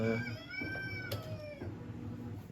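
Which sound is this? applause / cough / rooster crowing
rooster crowing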